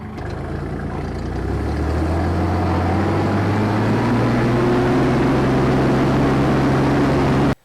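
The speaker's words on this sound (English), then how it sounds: "I got the row hippers on the tractor. Let's go draw some rows." A tractor fitted with row hippers draws garden rows; its engine runs loud and steady, the pitch climbing gradually before it cuts off abruptly at the end, with no voices.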